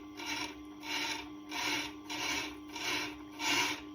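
A Tormek TT-50 truing tool dressing an uneven, glazed sharpening stone: a steady gritty rasp in six rhythmic passes, close and moderately loud, with a faint constant hum underneath.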